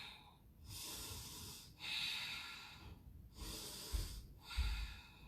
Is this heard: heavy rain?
no